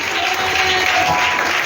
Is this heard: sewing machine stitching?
no